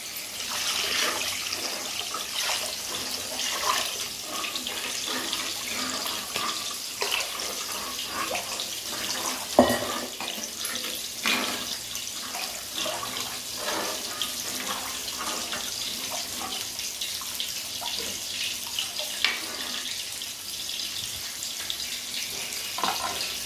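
Tamarind water, strained after soaking, poured into a clay pot for a fish curry, giving a steady close hiss of running liquid for the whole stretch with a few splashy bursts and no talk.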